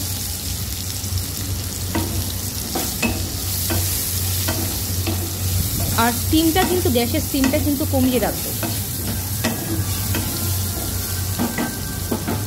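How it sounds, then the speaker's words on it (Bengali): A spoon stirs potato and pumpkin with salt and turmeric in a wok, giving repeated scraping strokes over a steady sizzle while a person talks through it. "পরিমাণ মতো লবণ আর হলুদ দিয়ে এটাকে কিন্তু আমি একটুখানি ভালো মতন করে নাড়াচাড়া করবো।"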